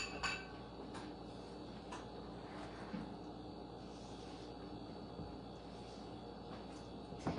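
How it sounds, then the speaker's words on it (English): Sugar is stirred into banana nut bread batter with a utensil, faint intermittent clinks and taps against the bowl over a quiet steady background. "I'm going to stir this in,"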